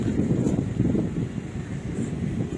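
Strong wind buffets the microphone on a car rooftop during roof rack fitting, a loud, continuous low roar that gusts unevenly.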